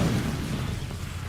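Incendio fire spell cast in Hogwarts Legacy, a dense burst of low whooshing roar that fades gradually over about a second.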